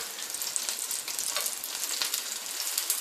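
Pork chops for balsamic pork chops sizzle hard in a hot pan as they are flipped with a fork, a dense, loud, close crackling hiss that runs without pause and without talking.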